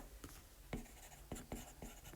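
A pen scratching across paper during a lesson, several short separate strokes at an uneven pace, close and fairly quiet.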